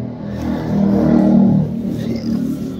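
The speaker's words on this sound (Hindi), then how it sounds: "डी आई सात सौ पचास थर्ड है जी सोनाली का इंटरनेशनल सिकंदर सीरीज का ट्रैक्टर है जी" A Sonalika International Sikander DI 750 III tractor with a double-clutch side-shift gearbox, its engine revving up to a peak and easing back, a loud rumbling drone close by.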